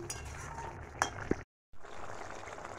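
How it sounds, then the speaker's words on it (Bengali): A spoon stirs a potato-cauliflower curry in a pot after spice powder goes in, giving a couple of light metallic clinks and soft scraping over a faint bubbling simmer, with a brief silent gap. "এখন দিয়ে দেব উপর থেকে কিছু মশলার গুঁড়ো দিয়ে একটু নাড়িয়ে নিচ্ছি"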